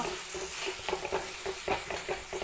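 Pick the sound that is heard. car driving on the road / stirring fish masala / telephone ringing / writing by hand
stirring fish masala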